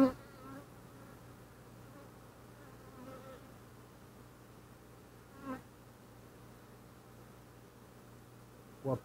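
Honeybees humming steadily around an opened hive that has swarmed, a soft continuous buzz throughout with a few louder passes of bees flying close by.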